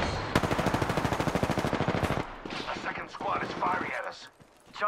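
Rapid, loud bursts of squad gunfire in the video game Apex Legends crackle for about two seconds, then give way to quieter clatter and movement.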